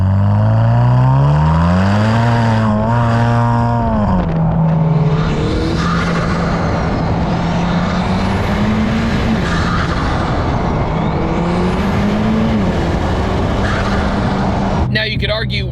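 A built, turbocharged 2.0-litre four-cylinder Chevy Camaro making 450 wheel horsepower revs loud and close, its pitch climbing and dropping through several pulls before settling into a sustained drone.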